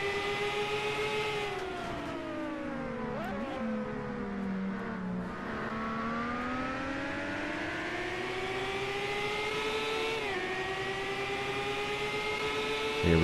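IndyCar race car on an onboard lap at Road America: a loud, continuous engine howl close up, pitch climbing through the gears, dropping on downshifts and rising again under hard acceleration, with no talk over it.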